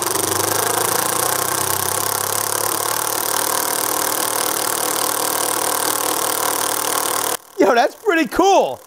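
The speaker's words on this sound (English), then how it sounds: "I don't think anybody would run a paddle bit or spaddle bit in assist mode, but I think it would be an interesting test." A SKIL PWRCore 20V impact driver spins a paddle bit in assist mode, giving a loud, steady, continuous motor whine for about seven seconds that then stops abruptly, followed by someone speaking.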